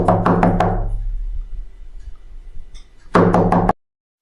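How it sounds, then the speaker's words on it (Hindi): Knocking on a door in a Little Red Riding Hood story: a quick burst of four sharp raps, a pause with faint background noise, then a second loud cluster of knocks, close and clear with no talk over them. "जो कुछ देर बाद आई और दरवाजे पर दस्तक दी।"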